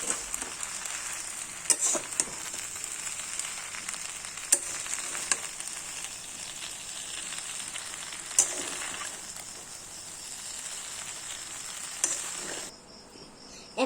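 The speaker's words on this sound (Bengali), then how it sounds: "এখন সবগুলো নাড়িয়ে নিচ্ছি।" Pasta is stirred in a hot pan, giving a soft continuous sizzle broken by several sharp scraping clicks of a spoon against the pan, close by, before the sound drops away at the end.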